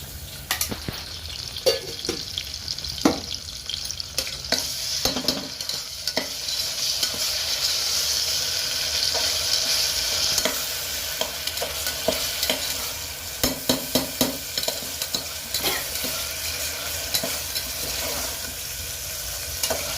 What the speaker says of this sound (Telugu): ఇది పచ్చివాసన పోయేంత వరకు ఫ్రై చేస్తూ ఉండాలి.